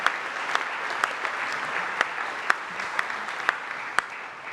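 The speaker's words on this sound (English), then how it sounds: "So give everyone who had a hand in this a round of applause" Crowd applause at the opening ceremony of the new Bay Bridge east span, a broad even hiss of many hands clapping outdoors, with a few sharper individual claps standing out above the steady mass.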